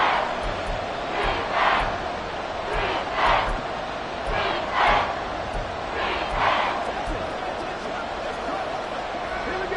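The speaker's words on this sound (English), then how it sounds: "The crowd getting into it as we come up on a big third down." A stadium crowd in the Madden 24 American football video game swells and cheers in repeated waves ahead of a big third down, a broad, steady roar under commentary.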